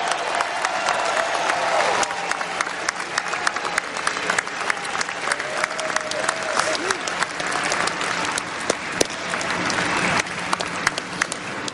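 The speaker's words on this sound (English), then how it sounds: "So give them a big round of applause because that's for you guys too." An audience applauds NFL fans of the year at a draft event, a steady wash of clapping from a crowd with faint voices and cheers mixed in, sustained throughout.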